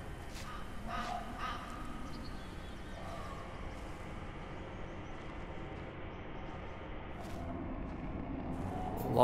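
Distant cawing calls of big birds in a forest video game ring out a few times over a steady wash of ambient rumble and hiss.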